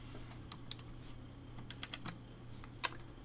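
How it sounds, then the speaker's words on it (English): Typing on a computer keyboard during a physics lecture, a scattered series of light key clicks with one sharper tap near the end over a low steady hum. "just trying to see if I can get this keyboard to work"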